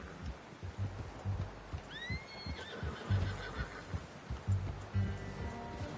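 A horse in Red Dead Redemption 2 gives a rising, wavering whinny over the game's background of soft hoof thuds and ambient rustle, with a second fainter call near the end.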